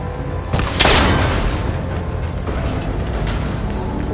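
Shot striking and breaking a cable connector on an ancient tower in Horizon Forbidden West: a sharp burst and crack near the start, followed by a lingering low rumble with no talk.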